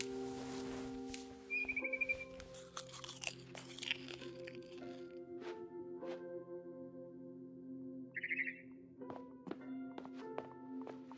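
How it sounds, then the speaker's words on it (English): Short bird chirps from a barn swallow outside a window in What Remains of Edith Finch, two brief high twittering bursts over soft crunching, chewing-like game sounds and ambient hum. "Then I heard chirping outside my window."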